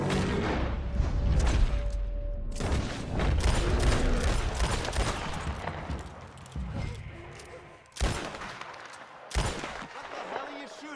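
Gunshots ring out in a tense scene, sharp loud blasts and bursts among mechanical clatter, with voices shouting between the shots.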